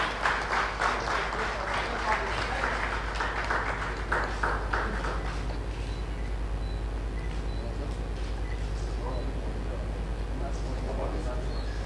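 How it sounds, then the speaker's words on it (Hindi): At the Smart City Conclave in Bhopal in 2015, the audience applauds to welcome the minister. Brisk clapping fills the first few seconds, then fades into a low, steady hum from the hall's sound system. "जोरदार ताली बजाकर स्वागत किया जाए माननीय मंत्री जी का।"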